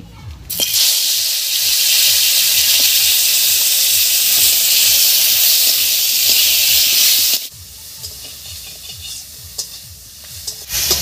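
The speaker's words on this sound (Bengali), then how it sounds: "তেল গরম হয়ে গেছে, এবারে মাছটা দেব।" Dried fish hitting hot mustard oil in a wok sets off a loud, bright sizzle that holds steady for several seconds, then drops sharply to a quieter crackle with scattered pops and stirring scrapes.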